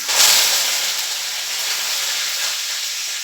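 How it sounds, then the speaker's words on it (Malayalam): Cumin seeds and curry leaves dropped into hot oil give a loud, steady sizzle and hiss that surges at first, then holds as an even spitting crackle. "വലിയ ജീരകം ഇട്ട് കൊടുക്കാം ഇനി കറിവേപ്പില ഇട്ട് കൊടുക്കാം കുറച്ചിട്ട് കൊടുക്കാം ആദ്യം"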